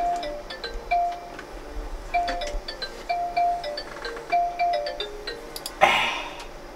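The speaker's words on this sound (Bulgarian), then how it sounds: "Някой ти звъни в момента." A phone ringtone repeats as a neighbour calls, its melodic electronic tones sounding several times at moderate volume across a quiet outdoor garden setting.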